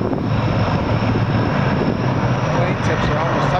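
Blue Angels jets flying in tight formation at the National Cherry Festival air show, a loud steady engine roar with wind noise throughout.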